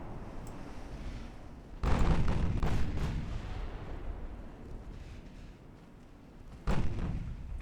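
Warship main gun blowing up in the naval game Ultimate Admiral Dreadnoughts, two heavy booming blasts with rumbling decay, the first longer and rolling, the second shorter, over a low ambient background.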